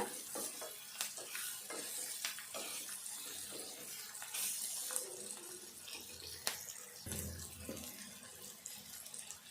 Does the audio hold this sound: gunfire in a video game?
no